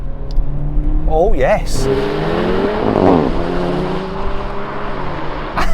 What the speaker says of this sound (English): now we're going to have a rolling race with the cars in their comfy settings.